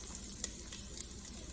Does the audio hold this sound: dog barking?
no